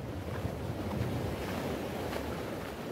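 Steady, loud surf rolls onto a quiet beach near Varna on the Black Sea, a continuous low wash of waves with wind buffeting close to the microphone and no voices.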